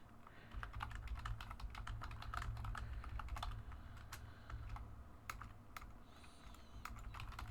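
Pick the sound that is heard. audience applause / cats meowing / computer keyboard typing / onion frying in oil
computer keyboard typing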